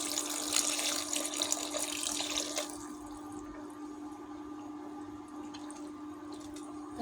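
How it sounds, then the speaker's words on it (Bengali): Water is poured into a pot of home-style jackfruit curry, a splashing stream for under three seconds that then stops, leaving a quiet simmering hum. "আমি আরও অল্প একটু জল দিয়ে দেবো।"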